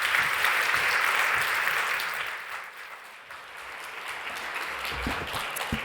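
An audience at a startup founders' pitch finale claps loudly and densely, then the clapping fades to a thinner patter before swelling slightly again.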